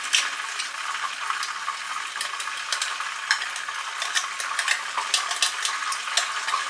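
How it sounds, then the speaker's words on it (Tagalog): Tuna dressed with vinegar and olive oil is stirred in a bowl, making quick wet scraping and light clinking sounds that repeat in an uneven rhythm, close and fairly loud, with no talking. "Hahaluin natin siya para mahalo yung lasa ng tuna."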